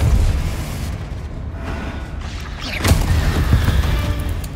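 Confringo spell blasts in the Hogwarts Legacy video game make a loud, rumbling boom with crashing debris, and a sharp burst near the end that rolls into a heavy low roar.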